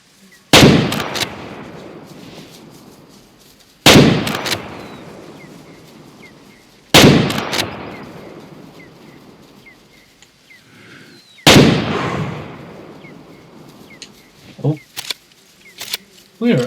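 Four loud, sharp rifle shots in the hunting game Way of the Hunter, spaced a few seconds apart, each with a long echoing decay, followed by faint clicks and handling noises.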